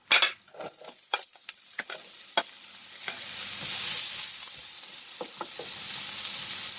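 Onion sautéing in a pan for a potato and cheese soup gives a steady sizzle, with scattered stirring clatters and scrapes up close, and the frying hiss swells partway through.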